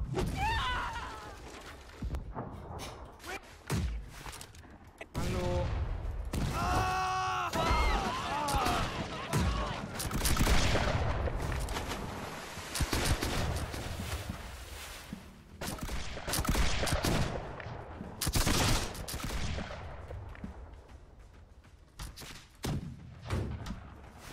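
Ship cannon fire in the pirate naval game Blackwake: repeated heavy booms and crashing impacts in irregular bursts, some loud and near, others distant, with players talking over the battle.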